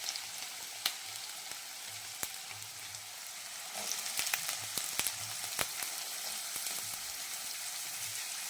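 Potatoes sizzle steadily in hot oil in a wok, a dense continuous frying hiss with scattered crackles and pops growing busier partway through, close and alone with no voices.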